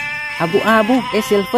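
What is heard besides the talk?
goat bleating while loaded onto truck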